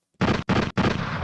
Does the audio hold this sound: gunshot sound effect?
yes